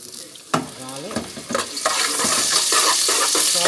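Garlic frying in olive oil in a pan, starting with a few stirring clatters before a steady, loud sizzle builds and holds to the end, with no talking.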